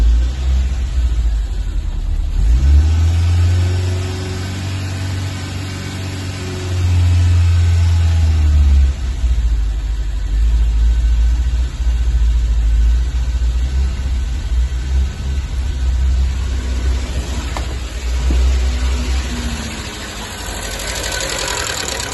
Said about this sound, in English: Revs high, and then as soon as you put the choke back in slightly, it dies.